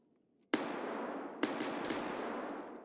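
Video game gunfire: two sharp, loud shots about a second apart, each followed by a long decaying crackle, with a fainter third burst after.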